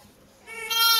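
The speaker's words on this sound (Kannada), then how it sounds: "ನೋಡಿ, ಇದೆಲ್ಲ ನಾಟಿ ಕುರಿಗಳು" A native Natti sheep or lamb on a sheep farm gives a single rising bleat, close and fairly loud, lasting under a second.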